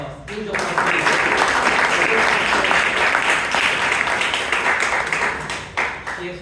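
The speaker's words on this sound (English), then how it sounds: "Huge applause, please." A Toastmasters club meeting audience in Bangalore gives a sustained round of applause, dense steady clapping that starts abruptly and runs loud for about five seconds before thinning out near the end.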